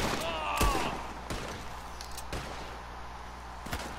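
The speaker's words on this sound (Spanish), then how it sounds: "Y si disparo dos veces rápido" Gunfire in the online mode of the video game Red Dead Redemption 2, a handful of sharp, separated shots spaced about a second apart, with a brief whistling tone near the start and low game ambience beneath.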